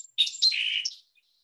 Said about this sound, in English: that's a song sparrow